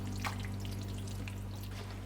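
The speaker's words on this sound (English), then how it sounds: "I'm gonna just pour this into my pan" Cake or brownie mixture poured from a bowl into a sprayed 13 by 9 inch baking pan, a soft continuous liquid pour with faint drips over a steady low hum, heard alone without talk.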